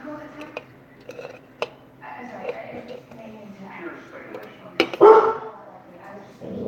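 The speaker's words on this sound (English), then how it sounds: "My dog's very protective, and he's not a big dog." A small dog barks and yips a few times at middle distance, with one sharper bark and a whimpering whine near the end, heard under and between ongoing talk.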